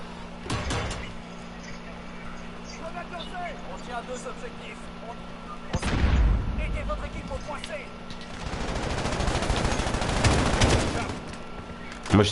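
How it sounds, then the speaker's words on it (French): Gunfire from Call of Duty Modern Warfare on PS4, with sharp bursts and rattling volleys that rise in the middle and the second half, mixed with voices talking over the game. "Moi, je tire, mais je sais pas sur quoi tirer."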